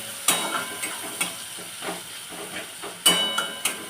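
Spices frying with turmeric and rock salt in a pan, a steady sizzling hiss broken by sharp spoon clinks and scrapes at irregular intervals.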